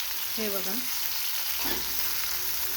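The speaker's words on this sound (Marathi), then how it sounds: "आता पहिले भेंडी टाकून घेऊ, टोमॅटो नंतर टाकायचे।" Okra (bhindi) frying in a hot pan with cooked green chillies, giving a constant close sizzle with soft stirring. A voice speaks briefly near the start and again faintly later.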